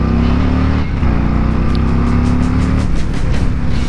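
A 2026 Harley-Davidson Street Glide Limited motorcycle engine revs hard at close range, a loud, sustained, throbbing roar that dips briefly and then climbs again.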